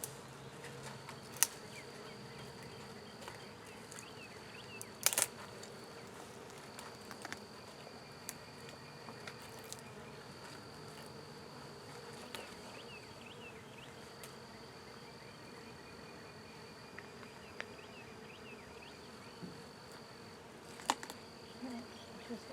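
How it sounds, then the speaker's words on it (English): Agitated bee swarm buzzing steadily around the listener, a faint, continuous drone with individual bees whining close past and occasional knocks and bumps, no talking. "You got some ticked off bees."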